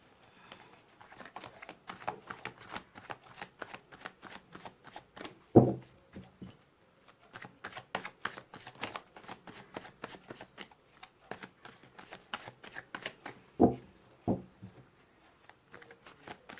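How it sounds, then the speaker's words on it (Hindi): Tarot cards being shuffled by hand, quick rippling riffles in repeated bursts with short pauses and a few louder taps as the deck is squared, close and fairly quiet, with no talking. "मैंने कर ली है कार्ड्स की सफलिंग"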